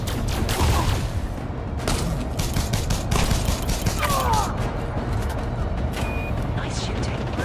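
Rapid bursts of small-arms fire crackle almost continuously in a ground firefight in Elite Dangerous: Odyssey, with dense overlapping shots and occasional mechanical clatter throughout.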